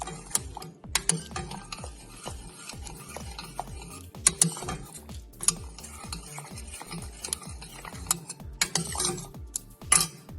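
A spatula stirs sambhar in a pot over a low gas flame, producing continuous rhythmic scraping and clinking against the metal with a soft bubbling sizzle underneath, steady and close.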